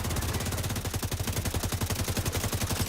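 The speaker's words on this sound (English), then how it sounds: "Just gonna get a shot at that sniper." Rapid gunfire in The Division 2, shots aimed at an enemy sniper, cracking out in a dense, steady rhythm of repeated bursts, loud and close throughout.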